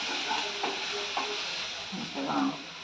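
Onions sautéing in a pan for mutton kuzhambu, a steady soft sizzle with a few scraping stirs of a spoon, close and moderately quiet, no talking.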